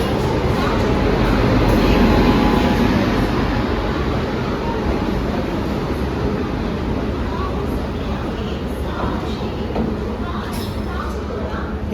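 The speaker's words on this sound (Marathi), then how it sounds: "फक्त इंजन आला." A train engine pulls into an Indian railway station during a road trip, its steady low rumble and rolling rail noise filling the scene loudly and continuously, with voices talking over it.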